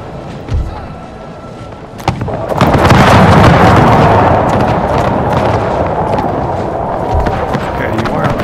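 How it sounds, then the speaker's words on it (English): Artillery fire in the Empire 2 mod strategy game, Great Britain campaign: a sharp boom, then a heavy rumbling barrage of blasts that rolls on and slowly fades, with a voice under it. "you are kind of firing into the ground here"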